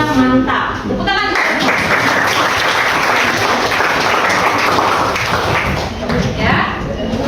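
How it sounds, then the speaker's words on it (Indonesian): A group of children clapping in unison in a classroom, steady and loud for several seconds, with voices mixed in. "Tepuk tangan."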